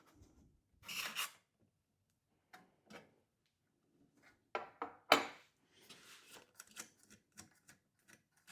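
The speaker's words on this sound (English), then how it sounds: "let me get a wrench. We'll loosen that, get it out of the way" Metal tool work on a 1932 Philco 80 Jr radio chassis as a wrench loosens a nut: sparse scrapes, clinks and rasping taps up close, separated by quiet gaps.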